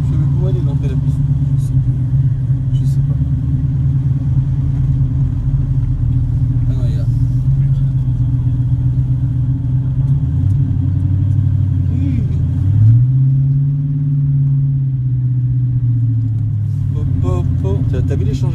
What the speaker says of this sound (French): On l'entend quand même bien le moteur.